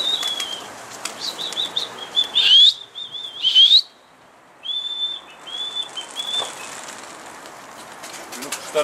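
Pigeons flapping their wings as they take off and scatter, loud close wingbeat bursts in several clusters, with a voice talking and whistle-like chirps around them.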